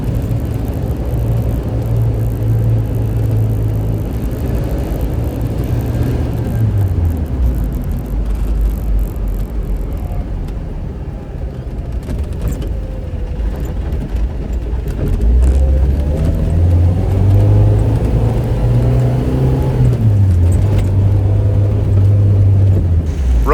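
A Suzuki Samurai with a swapped-in 2.0L engine drives along with a loud, continuous engine rumble that climbs in pitch through the gears and then eases off.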